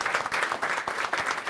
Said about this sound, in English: Give a big round of applause to our speakers